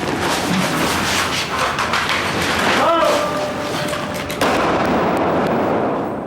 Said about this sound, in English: There's firing guns, which is cool.